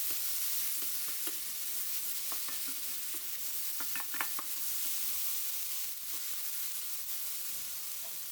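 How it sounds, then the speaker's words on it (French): Tomatoes and eggs are stir-fried together in a pan, a soft bed of frying hiss broken by scattered spatula scrapes and clicks, fairly quiet overall. "On fait sauter ensemble."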